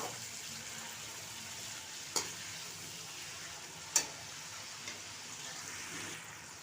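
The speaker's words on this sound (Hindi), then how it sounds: "गोश्त का कलर चेंज होने तक इसे फ्राई कर लें ताकि गोश्त का कच्चापन भी ख़त्म हो जाए" Meat sizzles quietly in a pot as it is fried for chicken pulao, with a steady soft crackle and a couple of sharp clinks from stirring.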